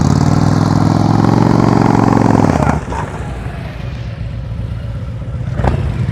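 A motorcycle engine under throttle during slow-speed riding practice, revving loud and close with a strong rising buzz for over two seconds, then dropping to a rougher, lower idle-like rumble.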